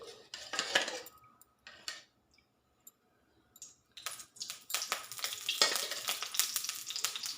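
Spices and seeds crackle in hot oil in a pan, with metal clicks and scraping from stirring; bursts of sizzle come and go, close and moderately loud, with quiet gaps between.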